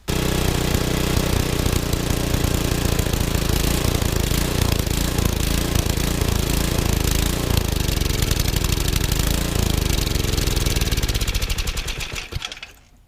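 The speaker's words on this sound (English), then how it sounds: "The engine is idling right now," Yard Machines snowblower engine with a pull cord, loud and close, running at a steady idle with a dense rapid rattle, then cutting off near the end.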